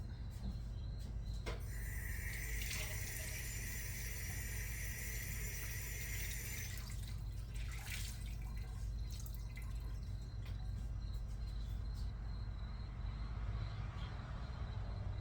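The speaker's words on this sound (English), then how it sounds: "I'm going to use that clam water and I'm going to cook the pasta in it." Leftover clam water drips and trickles into a pot for cooking pasta, faint, close splashes over a steady low hum, with no talking.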